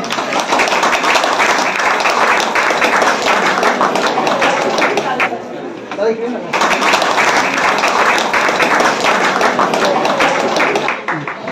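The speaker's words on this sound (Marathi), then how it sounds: "त्यांच्यासाठी जोरदार टाळ्या झाल्या पाहिजे" Loud sustained applause from a crowd at a village calendar-launch and haldi-kunku ceremony in Umbarshet, dense clapping that dips briefly midway before surging again, with voices underneath.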